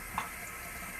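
Water is run into a shaving bowl to build lather with a silvertip badger brush: a faint, brief trickle and splash, lasting about a second over quiet room hiss.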